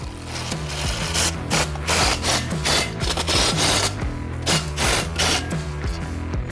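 A screw being driven tight to secure a fixture, giving a rhythmic grinding, rasping series of bursts as the driver turns, loud and close with no speech.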